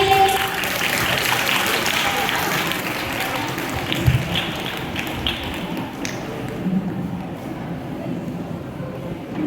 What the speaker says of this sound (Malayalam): എല്ലാവരും ക്ലാപ്പ് അടിച്ചേ.